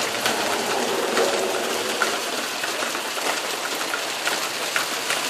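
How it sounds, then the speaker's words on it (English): Heavy rain pouring down outdoors on a morning, with a dense, steady hiss of drops hitting surfaces that continues unbroken throughout. "it's still raining out here. It's coming down hard."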